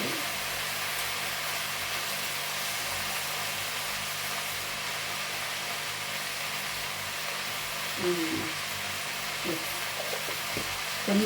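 Gongura leaves frying in oil in a pan, giving a steady, even sizzle throughout with a few brief, slightly louder stirring or clattering sounds near the end.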